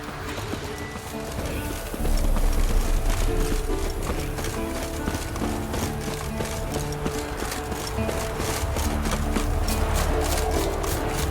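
Galloping horse hooves in The Witcher 3 video game, a steady, loud, rapid clip-clop over the whole stretch, with a game soundtrack layered underneath.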